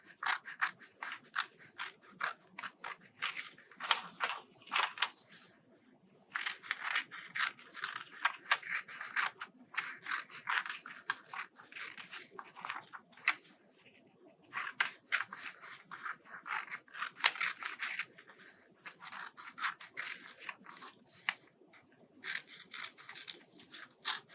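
Children's scissors snip through paper during a fine motor craft activity, with bursts of quick rhythmic cutting broken by short pauses, close and fairly quiet, with no talk.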